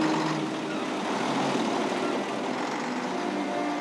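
A truck driving through a huge hole in a rough Bolivian road, giving a steady, fairly faint engine drone with broadband road noise and no distinct knocks or talk.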